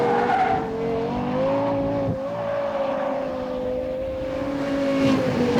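Lexus LFA V10 supercar on a racetrack with a 6-speed ASG transmission, its high engine note holding steady, briefly dipping at a quick gear shift, then climbing again alone.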